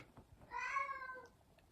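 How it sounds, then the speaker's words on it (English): A single short cat meow, quiet and clear, with no other sounds around it. "it's my cat Gibro."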